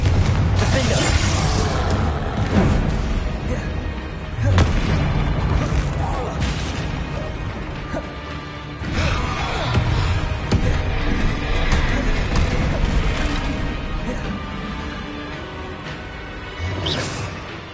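Fire-spell explosions in the game Hogwarts Legacy: repeated booms and crashes with crackling debris, coming in loud waves with short lulls, and a voice speaking at times among the blasts.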